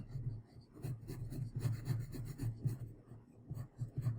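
Pencil drawing a figure on paper, close scratchy rubbing strokes in short irregular bursts, alone and quiet.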